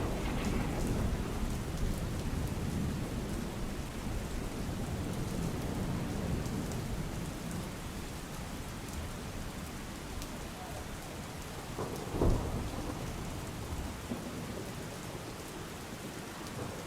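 Heavy monsoon rain pours steadily over Godhra in Panchmahal, a dense broadband wash of downpour with a low rumble of thunder near the middle, continuous and fairly loud throughout, with no voices.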